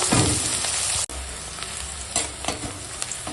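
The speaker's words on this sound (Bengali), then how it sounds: "পেঁয়াজ ভাজার তেলেই এখন দিয়ে দেবো কেটে রাখা পেঁয়াজ পেঁয়াজটা একটু ভেজে নেব" Chopped onions fry in oil in a pan with a dense, close hiss; a loud burst of sizzle fades abruptly after a second into a quieter steady crackle with occasional spatula scrapes.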